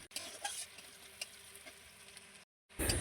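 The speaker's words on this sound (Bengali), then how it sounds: "এগুলোকে আমি লাল লাল করে ভেজে নেব।" Chopped onion, green chili and dried chili fry in hot oil, a steady close sizzle with occasional stirring scrapes, broken by a short silent gap before louder sizzling resumes.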